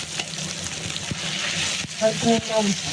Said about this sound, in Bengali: दोनों आलू को अभी एक साथ फ्राई करना है